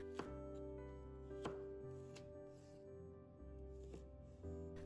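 Knife chopping potato into strips on a cutting board, a few sharp distinct chops spaced over a few seconds, close and fairly quiet with no talk.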